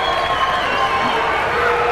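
A crowd roars and cheers steadily at a fourth-quarter high school boys' basketball game between Wayne Hills and Wayne Valley, a dense, loud wall of voices filling the gym without letup.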